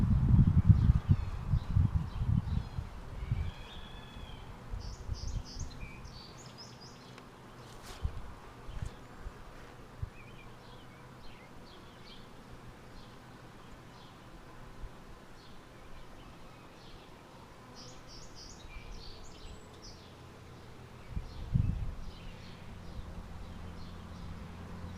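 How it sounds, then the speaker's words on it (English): Honey bees swarm over an opened hive during an inspection, giving a steady low droning hum with scattered rustling and faint bird calls in the background. "Oh, there's a lot of bees on this one."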